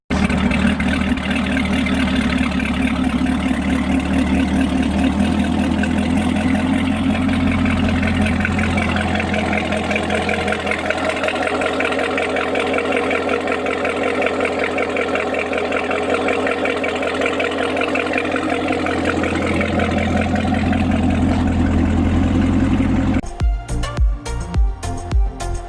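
A deep, steady idle from a supercharged 2017 Corvette Z06 rumbles loudly and continuously, a throaty low drone that cuts out abruptly near the end.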